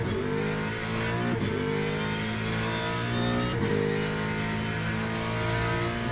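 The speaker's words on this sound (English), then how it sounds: "Let me know if the engine sounds are loud." A racing car engine in a video game drones loudly and steadily, a continuous rich mechanical tone that shifts pitch slightly as it revs, with no talking over it.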